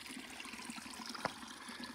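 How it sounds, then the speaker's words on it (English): A clear stream flows beside a hiking trail in Saguaro National Park, a quiet steady trickle and gurgle of water with one brief splash near the middle. "Okay, so this is the actual stream that's flowing."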